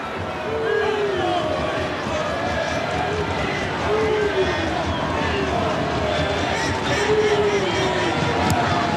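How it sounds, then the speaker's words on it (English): Rugby crowd at a Southland versus Otago ITM Cup match chanting during a goal kick, a sustained rising and falling roar of many voices, with a commentator talking over it. "Crowd chanting he won't get it, rather optimistically."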